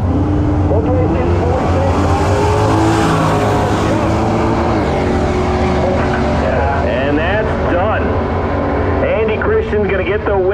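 Drag race cars roar down a no-prep strip in a loud, continuous wash of engine noise, with an announcer's voice calling over the racing throughout.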